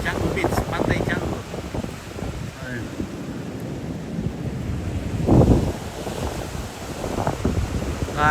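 Ocean surf washes ashore at Canggu Beach in Bali, a continuous broadband rush with a swelling wave crash midway, mixed with wind buffeting the microphone.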